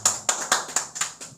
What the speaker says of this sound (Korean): 우리 예배를 받으신 하나님께 영광의 박수 올리겠습니다.